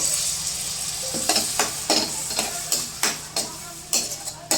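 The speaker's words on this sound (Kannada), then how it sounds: "ಸ್ವಲ್ಪ ಎಣ್ಣೆ ಒಳಗೆ ಫ್ರೈ ಆಗಲಿದು" Spinach paste fries and sizzles in oil in a pot for palak khichdi, a steady sizzle punctuated by repeated stirring scrapes and clinks of a spoon against the vessel.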